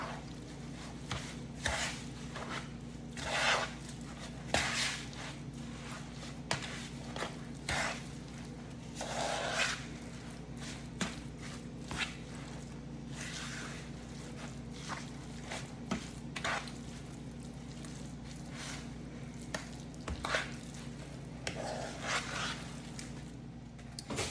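Hands knead a salmon and shrimp croquette mixture with breadcrumbs, making soft, wet squishing and slapping sounds in irregular bursts close by, with no talking.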